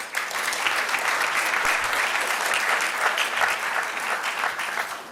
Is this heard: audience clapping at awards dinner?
yes